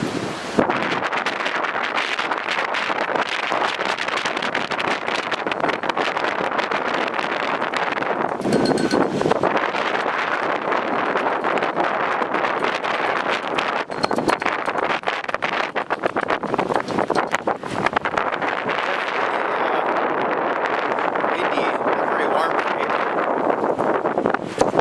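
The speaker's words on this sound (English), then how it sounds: "I'm not going to try to talk because it's extremely windy" Strong April blizzard wind roars steadily and loudly across the microphone for the whole stretch, a dense gusting rush with a brief dip midway and no talking.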